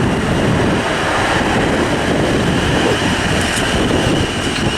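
South Western Railway passenger service bound for Basingstoke running through Weybridge station on the South Western Main Line, a loud, steady rumble and roar of wheels and carriages passing close by, continuous throughout.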